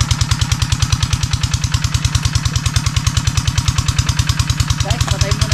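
A small engine, likely a farm pump or tiller motor at a garden plot, chugs steadily close by with a fast, even firing rhythm and metallic clatter throughout, alone without talk.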